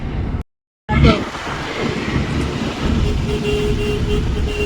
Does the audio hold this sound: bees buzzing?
no